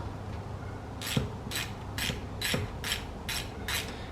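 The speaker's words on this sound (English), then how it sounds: "It looks pretty good, and I'm gonna tighten it up. Looks like an 8mm." An 8mm socket ratchet tightens a hose clamp on an Acura RSX engine, giving seven evenly spaced, crisp clicking pulls, close and alone.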